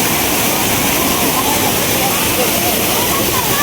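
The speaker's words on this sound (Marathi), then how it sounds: "धबधब्याचा आवाज थोडा जास्त आहे" Kapildhar waterfall in Beed roars as a loud, steady broadband rush of falling water that fills the whole span without letup, with a voice faintly audible beneath it.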